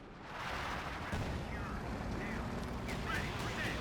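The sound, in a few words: artillery rounds landing from video game Company of Heroes 2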